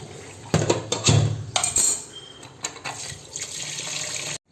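Cold tap water runs over crabs being cleaned at home, a splashing stream in a sink with a few light clinks, stopping abruptly at the end.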